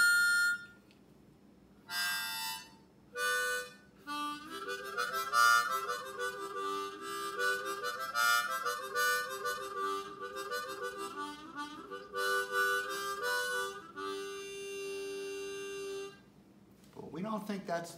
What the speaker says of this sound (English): Now, the harmonica, if you just play it straight,